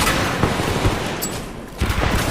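Gunfire in the video game Titanfall 2, dense rapid bursts of automatic shots crackling continuously and loud, with no voice over them.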